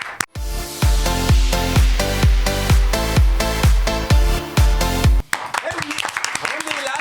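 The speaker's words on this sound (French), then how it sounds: "immédiatement un petit jingle et on passe au sujet suivant" A short French TV show jingle plays loud and alone as rhythmic musical hits with bass and sustained tones for about five seconds, then gives way to quieter background sounds.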